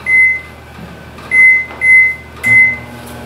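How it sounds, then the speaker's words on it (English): Microwave oven running while heating plastisol in a Pyrex jar, a steady low hum with four short electronic beeps spaced through the clip, close and clear with no talk. "So I'm just going to put it in the microwave for about a minute and a half,"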